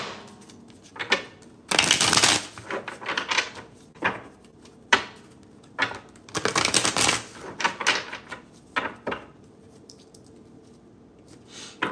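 Bursts of riffling tarot card shuffles come in clusters, with softer taps and slides of cards between them, close by and with no one talking.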